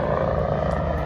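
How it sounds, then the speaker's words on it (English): Red Bull Air Force helicopter at the Central Coast Airshow at Santa Maria Airport, a steady whirring rotor and engine drone heard from a distance, briefly and alone. "How'd you like to be inside that helicopter and try to figure out where the sky and where the ground"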